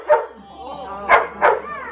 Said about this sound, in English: when she gets excited, she likes to bark